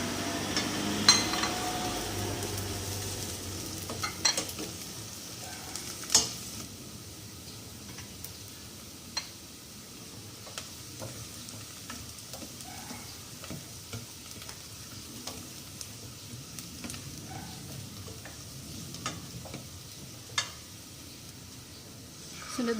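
Garlic sautés in a pan with a faint, low sizzle that goes on throughout, broken by occasional clicks and taps of a utensil against the pan.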